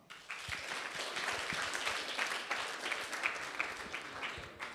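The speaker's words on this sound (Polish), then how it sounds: "Brawa!" Audience applause closing the second round of a youth quiz tournament in the style of Jeden z Dziesięciu, a steady mid-level wash of many hands clapping throughout, with no voices over it.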